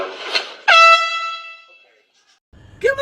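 A loud air horn, used as a prank, blasts once for about a second and then fades. Startled voices come just before and right after it.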